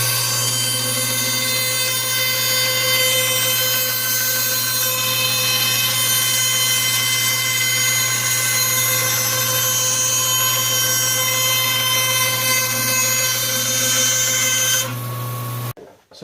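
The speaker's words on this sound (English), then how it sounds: "I'll go to the bandsaw and cut that out" A bandsaw cuts an arc through wood for a goat milking stand, a loud steady motor hum with a tonal whine that holds evenly for about fifteen seconds before the blade stops and the sound cuts off.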